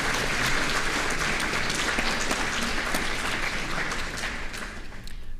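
Steady audience applause thanking generous supporters at an annual open meeting, a dense wash of many hands clapping continuously and fairly loudly, tapering slightly toward the end.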